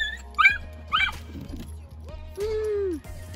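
A dog working outdoors with its owner gives a few short high yips and whimpers, then a longer rising whine, close by over a steady low engine hum, with faint background noise between calls.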